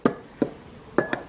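Boiled radish being stirred with seasoning in a bowl, three or four sharp clinks of a utensil against the bowl in quick uneven succession, close and alone.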